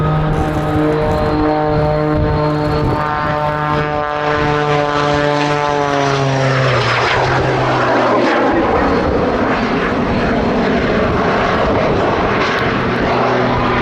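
A jet-powered Pitts Special aerobatic biplane displays at a summer air show at Duxford, with a loud, continuous engine roar whose pitch slides steadily down and then back up as the aircraft passes close by, with no talk.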